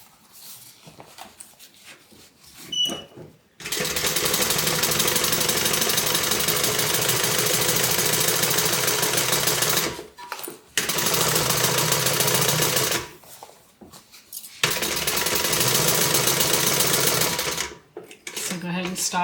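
A sewing machine stitches a multi-compartment carryall tote bag in long, loud, rapid runs, pausing briefly between bursts as the fabric is turned at the corners.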